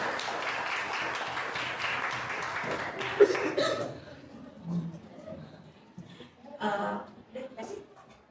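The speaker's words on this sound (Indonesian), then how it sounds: "Tepuk tangan dulu dong untuk keluarga kita" A crowd of students at an MPR Four Pillars outreach event applauds steadily for nearly four seconds, then the clapping stops and scattered voices and brief laughter follow.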